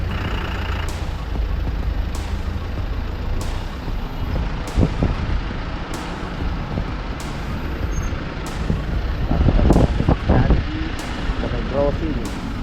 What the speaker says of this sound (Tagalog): Kaya sobrang traffic.